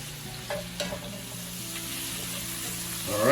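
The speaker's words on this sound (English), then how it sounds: "you already know the pan is nice and hot. Add that good shrimp." Shrimp sizzle steadily in a hot pan, with a couple of sharp stirring clinks early on and a louder burst of frying near the end.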